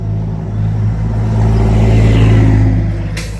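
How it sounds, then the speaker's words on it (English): A truck passes on a hilly rural road between Waitomo and Te Kuiti, a loud steady engine roar that swells and holds close by, then eases slightly as it goes. "I'll just let this truck go past so you can hear me."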